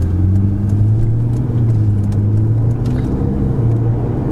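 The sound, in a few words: Ferrari 488 GTB engine cruising in sixth gear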